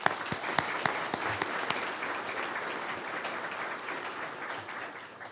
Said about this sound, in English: Let's give Brandon a round of applause